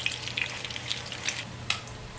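Salmon fish patties sizzling in a frying pan, a steady hiss with small pops and crackles scattered throughout, close and alone.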